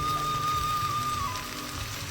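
Pui shak cooked with small shrimp in a pan sputters and crackles, a dense, steady patter of popping and sizzling heard up close with no voices.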